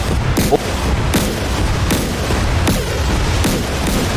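Heavy naval gunfire from the battlecruiser Pyotr Velikiy in the DCS World combat game, loud booming shots and blasts repeating roughly every second against a dense, rumbling battle din, with no talk.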